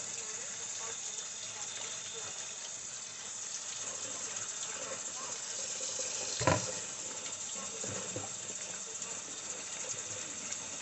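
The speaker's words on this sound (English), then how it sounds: "I'm just gonna rinse them off. Make sure they're really clean." Tap water running steadily over raw oxtails being rinsed in a bowl in a home kitchen, a constant hiss with a brief splash near the middle and faint handling sounds.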